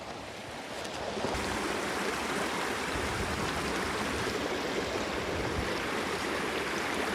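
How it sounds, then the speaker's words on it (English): Water gently lapping against ice along a shoreline, a steady soft washing rush that swells in after a quieter first second and continues evenly, with light wind noise and no talk. "you can just see the water bouncing on top of it as it's just sort of gently hitting it"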